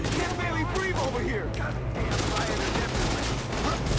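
Bursts and rattles of gunfire in the video game Tom Clancy's The Division, set in a shopping mall, with rapid shots crackling over a busy, noisy game background.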